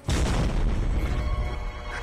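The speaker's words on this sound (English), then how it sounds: "That was the vine thud!" A deep booming thud from Slendytubbies, the vine thud sound effect, loud at onset and rumbling off over about two seconds with no talk.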